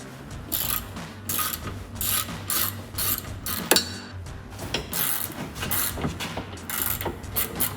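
Ratchet wrench loosening the two 18mm rear brake caliper bolts on a 2010-2015 Chevrolet Camaro SS, a steady run of close, sharp clicking bursts in regular strokes with short pauses between them.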